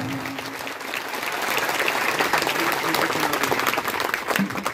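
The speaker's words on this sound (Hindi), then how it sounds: "जोरदार तालियां।" A crowd at a Bhagavat Katha religious gathering in Changoi village applauds, the clapping swelling after the first second into a loud, dense, sustained roar of many hands.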